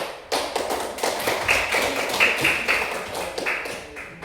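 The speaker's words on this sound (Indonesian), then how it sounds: "Ayo kasih aplaus untuk kita semua." A small group applauds at a classroom training session, a dense patter of hand claps that runs steadily for several seconds at close range with no voices over it.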